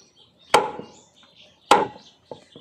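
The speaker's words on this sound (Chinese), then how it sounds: "用剁的比较快" A knife chops through a stiff areca palm leaf sheath being shaped into tableware: two sharp, hard thwacks about a second apart, then a lighter tap, with quiet between strikes.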